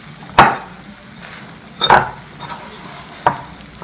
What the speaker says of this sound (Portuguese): Depois que tira do micro-ondas é só mexer.